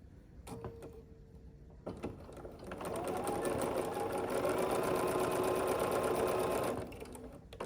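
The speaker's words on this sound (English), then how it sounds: "we're going to sew from the top corner to the bottom corner." A sewing machine stitches a scrappy quilt block corner to corner, its steady motor hum running close and continuous for about five seconds after a few brief starting clicks.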